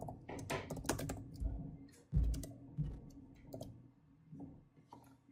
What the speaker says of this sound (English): I'm going to explain this after I've typed it